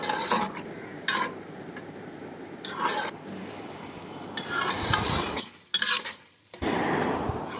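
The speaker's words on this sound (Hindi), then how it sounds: "दही को अच्छी तरह से मिक्स कर लें।" Yogurt being stirred into frying minced meat keema in a pan, with scraping and clinking utensil strokes in bursts, broken by short pauses, close up and without talk.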